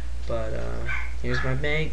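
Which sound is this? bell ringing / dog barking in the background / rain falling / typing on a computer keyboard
dog barking in the background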